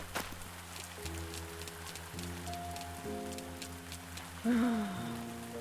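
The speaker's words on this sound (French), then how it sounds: "Ah, il pleut encore" Steady patter of rain falling on a surface in the video game Spirits and the Mouse, with sustained musical tones and a brief louder chime near the end.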